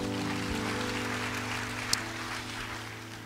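A church congregation applauds during an Indonesian sermon: a steady wash of clapping under a low electrical hum, even in level from start to finish with one brief sharp knock near the middle.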